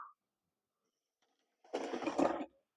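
A Hornby R3064 Caledonian Pug model locomotive runs at 30% controller power, giving a close, steady whirring buzz of its small motor that lasts under a second before cutting off.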